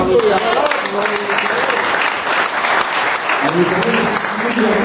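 An audience at a union gathering in Arequipa, Peru, applauds in a steady, dense wash of clapping that lasts for several seconds, while a voice speaks briefly through a loudspeaker over it.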